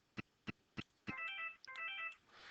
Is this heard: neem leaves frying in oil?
no